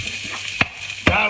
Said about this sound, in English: fry it up.